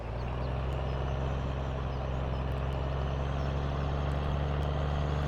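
A dump truck from Farming Simulator 17 drives along with a steady, loud low engine drone and constant rumble, with no pauses or talk.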